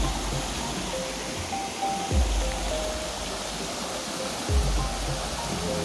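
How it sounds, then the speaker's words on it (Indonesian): A river flowing through the countryside between villages gives a steady broadband rush of water, with a couple of brief low thumps partway through and no voices. "Ini sungai yang membelah kampung ya, ini antar desa"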